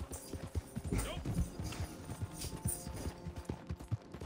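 Horse hooves clip-clop in Red Dead Redemption, a steady run of hoof beats that sits under ongoing talk with game background sounds.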